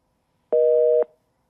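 A telephone busy tone sounds during an attempt to reach someone by phone: a single steady two-pitch electronic beep lasting about half a second, loud and clean against near silence.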